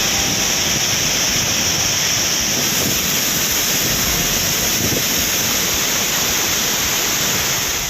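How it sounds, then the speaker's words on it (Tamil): A flooded main waterfall at Courtallam in Tenkasi district, swollen by monsoon rain, roars as a dense, steady rush of falling water that fills the whole clip without pause. "தென்காசி மாவட்டம் குற்றால பிரதான அருவியில் வெள்ளம் பெருக்கெடுத்து ஓடியது"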